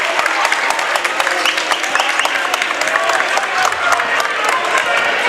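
Home crowd at a high school boys' varsity basketball game reacting to a referee's call, a dense, loud sustained roar of clapping and voices filling the gym without a break.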